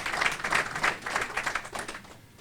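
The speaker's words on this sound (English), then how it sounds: "Big round of applause for all those guys." Applause at a hall of fame induction ceremony in Waterbury, honoring committee members; a room of people claps steadily in pulsing waves that taper off near the end, with no voices over it.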